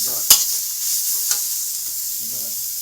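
Rat meat stir-fried in a hot pan sizzles steadily, with sharp scraping clanks of the spatula against the metal at a couple of moments.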